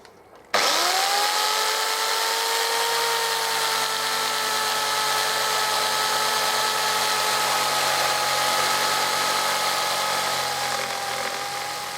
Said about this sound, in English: I'm going to have to use a jigsaw. And I think this is going to be a long, slow cut